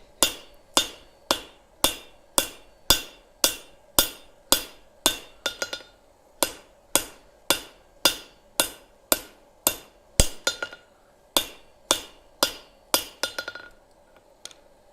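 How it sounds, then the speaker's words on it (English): Steady hammer blows ring out on an anvil with a swage block sitting on it in a forge, about two strikes a second of sharp metallic clinks, with a brief cluster of quicker taps near the end. "So you can have a Swage block sitting on your anvil and still have enough face to hammer on."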